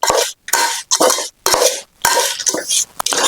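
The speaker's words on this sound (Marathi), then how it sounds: "हे सगळं आपण आहे ना तेलामध्ये चांगलं परतून घ्यायचं आहे" Spices stirred in hot oil in a pot for Sangli-style bhadang spicy puffed rice, a spoon scraping in quick rhythmic strokes with brief pauses and a faint sizzle underneath, no talking.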